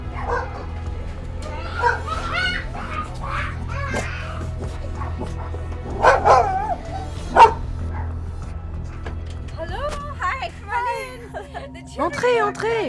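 Excited dogs bark and yip in short bursts indoors, near and mid-distance, mixed in with people talking.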